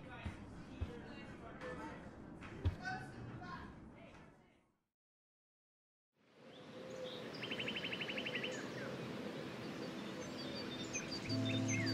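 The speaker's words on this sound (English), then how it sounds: "The birds are flocking around Samuel." Birds chirping and tweeting in the video game Life is Strange, bright repeated calls over ambient background, broken by a short silent gap before the chirps resume steadily, with brief game dialogue nearby.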